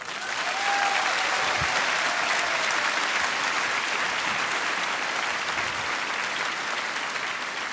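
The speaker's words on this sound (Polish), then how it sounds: "bardzo proszę, brawa!" Sustained applause from a large crowd at the opening ceremony of an outdoor amphitheatre in Opole, steady and dense from start to finish, filling the space with no voices on top.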